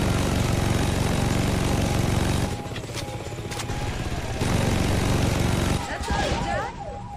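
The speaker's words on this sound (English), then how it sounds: "Get in the helicopter." Helicopter engine in the video game Saints Row 2, a loud steady droning whine that dips and swells, mixed with game sounds and talk.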